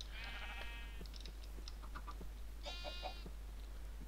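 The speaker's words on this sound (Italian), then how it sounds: "Guardate che piccola è intanto la pecora." A sheep in Minecraft bleating twice, two wavering baa calls about two seconds apart, fairly quiet over faint background hum.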